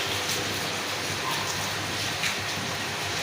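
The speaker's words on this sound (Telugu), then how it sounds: "ఇప్పుడు ఇది కొంచెం తగ్గిందండి వర్షం." Light rain that has started to ease falls outdoors in Bhimavaram: a faint, even patter and hiss that stays steady throughout, with no voices over it.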